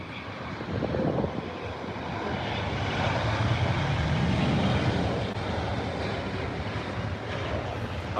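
An Alitalia airliner departs London Heathrow airport with a broad, sustained jet roar that swells gradually and stays loud throughout.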